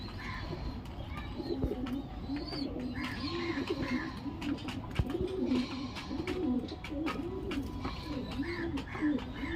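Pigeons in a home loft coo continuously in rolling, repeated phrases, close and clear, with faint higher chirps mixed in.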